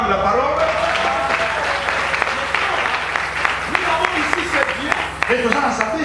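A church congregation at a French Sunday worship service claps loudly and steadily, applause filling the room from start to finish, with cheering voices mixed in.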